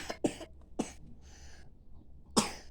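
Several short, sharp coughs come in separate bursts with quiet pauses between them, close and fairly soft, with a brief breathy rasp midway.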